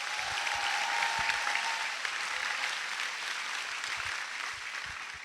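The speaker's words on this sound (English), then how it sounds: "So just everybody give everybody a round of applause right now." An audience at a school showcase gives a round of applause, a sustained crowd clapping that stays fairly even, easing slightly toward the end, with a brief tonal whistle early on.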